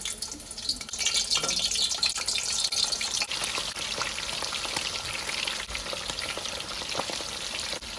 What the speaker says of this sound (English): Once the oil heats up, I'll add this onion that I just split in half into the oil.